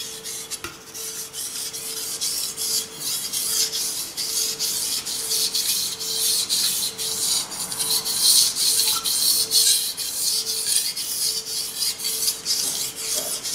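A knife blade is drawn across a Suehiro whetstone with light pressure to refine the edge, producing a continuous close gritty rasping of regular back-and-forth strokes, loud and steady with no voices.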